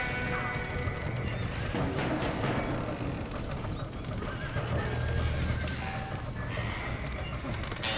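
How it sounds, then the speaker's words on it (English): Horses neigh and whinny in Red Dead Redemption amid a noisy, chaotic scene with hooves and crashing sounds, voices faintly calling in the background. "Somebody get them horses out!"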